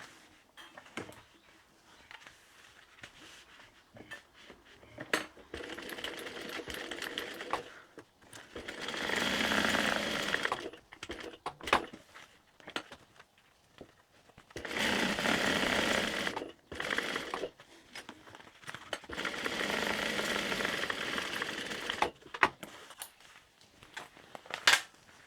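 A sewing machine stitches along the edges of a tote bag in three sustained runs of steady whirring, each lasting a few seconds, separated by quieter pauses with small clicks and handling noises.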